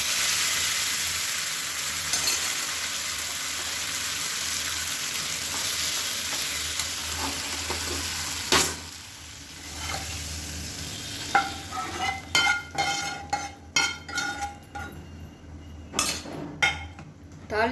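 Hot tempering sizzling and frying in a pan as sambar is poured in, a steady hiss with clinks of a ladle and vessel, stirring rattles and scrapes growing busier toward the end, no talking.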